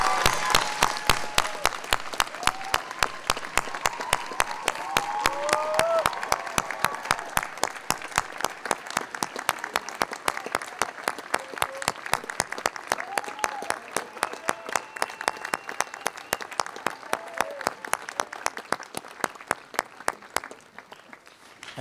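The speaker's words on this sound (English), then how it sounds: "Please join me in a great big round of applause to the faculty, the staff, and the faculty emeriti of Phillips Academy." A large commencement audience at Phillips Academy claps for the faculty and staff, a long run of dense applause with individual claps distinct. It starts loud and gradually thins toward the end, with faint voices mixed in.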